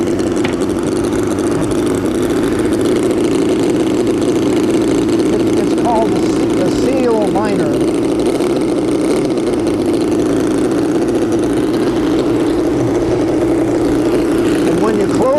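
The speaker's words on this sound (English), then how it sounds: "Now this little engine here is also a Westbury design. Only 15 cc's, just a tiny little engine." A tiny 15 cc Westbury-design model engine runs steadily with a fast, buzzing putter throughout, while a person talks briefly over it.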